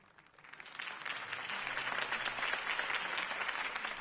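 A crowd applauds in the video game Batman: The Telltale Series, swelling in after a quiet start and holding a dense, even clatter of clapping until the end.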